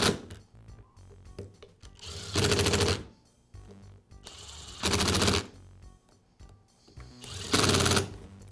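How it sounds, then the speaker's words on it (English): An impact driver tightens screws during reassembly of a Makita polisher gearbox, firing three loud rapid hammering bursts of about half a second to a second each, separated by quieter handling clicks and rustling. "and then I'll finish them with the impact driver."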